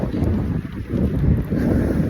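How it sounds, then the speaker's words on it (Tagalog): Steady low rumbling wind in Spain buffets the microphone throughout, a continuous roar with gusty swells and no voices. "Ayan, hangin."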